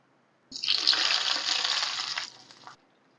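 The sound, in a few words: fried onion tempering (baghar) poured into beef haleem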